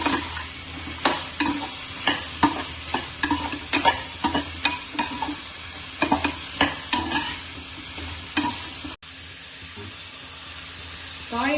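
Radish and other vegetables sauté in a pan for South Indian sambar, with repeated scraping stirs of a spoon over a steady background sizzle, close and fairly loud, before the stirring stops near the end.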